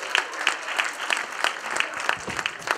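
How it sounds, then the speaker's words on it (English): An audience at a youth summit applauds, steady dense clapping with a regular rhythmic beat running through it. "Give yourself a round of applause."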